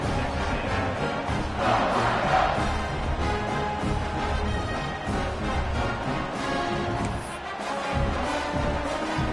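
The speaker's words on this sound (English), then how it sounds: "this crowd is buzzing after that last score" A football stadium crowd at a Texas A&M versus Ohio State game buzzes loudly and continuously after a score, a dense roar of many voices with swelling cheers.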